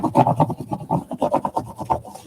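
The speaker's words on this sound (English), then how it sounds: "Take our scissors again." Scissors cut through a paper magazine page for a collage, a close run of quick, rhythmic rasping snips and crisp rustles that repeat steadily with no one speaking.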